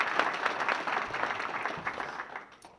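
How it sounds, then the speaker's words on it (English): Applause at a ceremony naming a winner's circle and performance center: steady, dense clapping from a sizable crowd, fairly close, sustained for a few seconds before tapering off slightly at the end. "If you don't mind, do a second round of applause."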